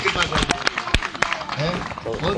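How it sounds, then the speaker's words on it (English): A gathering at a chanting program breaks into applause, scattered sharp claps rising over ongoing talk and crowd murmur nearby. "Give a big round of applause for him."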